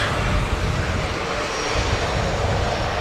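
Aircraft engines rumble steadily at Manchester Airport as a plane taxis out, a continuous broadband roar holding level throughout with no distinct voices.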